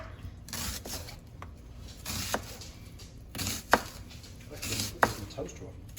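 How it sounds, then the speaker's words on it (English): A knife slicing an onion on a cutting board, with soft rasping strokes and several sharp taps of the blade meeting the board, close and steady. "So I'm going to cut the onion in half, like that. And then I'm going to just slice it."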